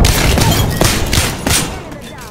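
Sniper rifle fire in the battle-royale shooter Apex Legends: a couple of sharp, booming cracks at about one-second intervals over dense game noise, with faint voices underneath.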